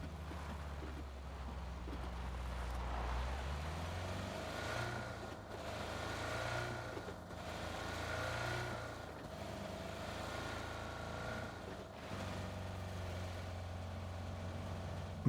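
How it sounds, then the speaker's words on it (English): A Jeep in the video game PUBG drives past, its engine a steady low rumble that swells and fades in repeated waves, fairly loud and continuous with no voices over it. "I see a Jeep pass by, so I decide to chase it."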